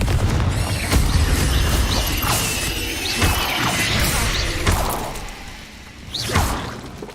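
Confringo blasting spell explosions in Hogwarts Legacy combat: loud booms, crashes and whooshes follow one another in a dense, continuous battle mix.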